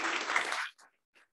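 A conference audience claps for panel speakers at a timber design event, a short burst of dense applause that cuts off abruptly, followed by a couple of faint scattered claps.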